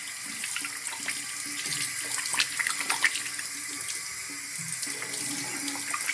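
A bathroom tap runs in a steady, splashing stream into a sink, close and constant, with small fluctuations as hands move through the water.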